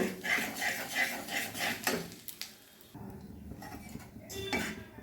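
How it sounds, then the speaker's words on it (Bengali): Kashmiri chilli powder and turmeric powder being stirred together with a spoon in a bowl for chicken chaap, giving soft clinks and scrapes of metal against the dish at close range, with no voices. "কাশ্মীরি লঙ্কার গুঁড়ো নিয়ে নিচ্ছি আর একটু হলুদ গুঁড়ো নিয়ে নিচ্ছি এবার এটা আমি মিশিয়ে নেব"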